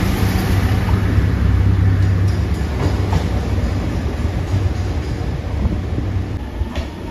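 A JR Shikoku 2600 series limited express diesel railcar at Takamatsu Station, a loud steady engine drone with low rumbling and faint rail clatter running throughout, no voices.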